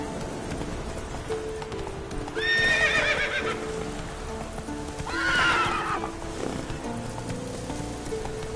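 Horse galloping in the video game The Witcher 3: rhythmic hoofbeats throughout, with two loud neighs midway and rain falling in the background, no one talking.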